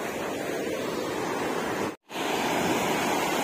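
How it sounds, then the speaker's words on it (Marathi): Water rushes steadily near a lake, a continuous broadband roar like surf or a small waterfall, briefly cut out once midway and then resuming at full strength. "आणि पाण्याचा आवाज येतो इकडे"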